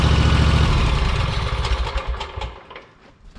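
A lawn mower engine idling as it warms up, a loud, close, steady throbbing chug that softens and breaks into uneven sputters toward the end.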